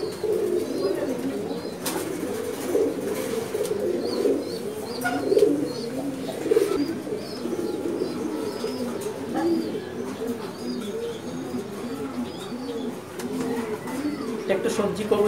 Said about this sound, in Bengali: খুবই বড় সাইজের একটা কবুতর, খুব বড় সাইজের একটা কবুতর, র্যাপ কবুতর।